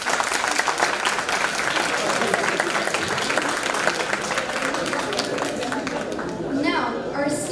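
A crowd of listeners applauds after a GKV Talks presentation, steady dense clapping filling the room at close range with a little chatter mixed in, sustained throughout.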